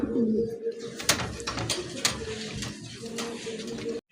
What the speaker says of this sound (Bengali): কিং কবুতর মাশাআল্লাহ অনেক সুন্দর